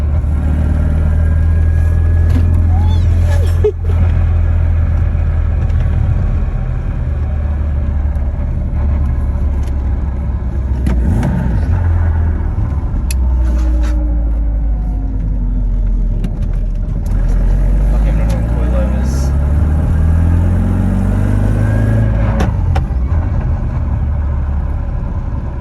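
A BMW E36 with a swapped manual transmission drives along, its engine a steady loud low drone inside the cabin, rising and falling gently as it accelerates and shifts, with occasional clicks and rattles.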